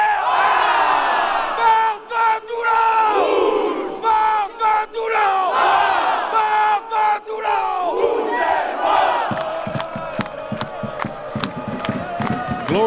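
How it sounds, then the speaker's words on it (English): A stadium crowd at Toulon's Stade Félix Mayol, in southern France, performs the pilou battle cry before a rugby match: massed voices chant and roar in unison, with rhythmic collective shouts and sharp claps or beats building toward the end. "It's now time for the pilou."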